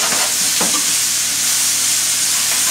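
Pasta is tossed in a hot pan beside scallops, producing a loud, continuous hiss and sizzle with a brief stirring scrape early on, close up and with no voices.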